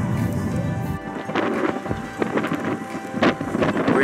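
Strong wind gusts across a beach at a fishing point, a loud, steady roar of buffeting rumble that swells in several bursts over a few seconds, with no voices.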